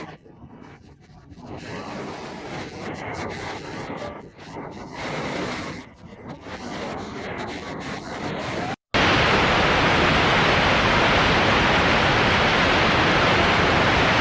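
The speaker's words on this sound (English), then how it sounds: "Monster waves pound the coast, slamming into seawalls and crashing over promenades." Storm waves pound the coast, heard first as a rushing, surging roar, then as a sudden jump to a loud, constant wash of crashing surf and wind-driven noise.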